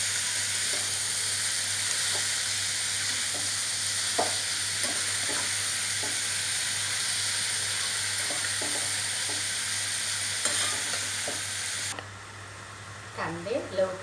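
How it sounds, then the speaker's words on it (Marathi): Onions fry in a pan until golden, giving a steady, close sizzle with occasional stirring scrapes, and a voice breaks in briefly near the end. "याला कांद्यांना आता सोनेरी रंग येईपर्यंत परतून घेऊ."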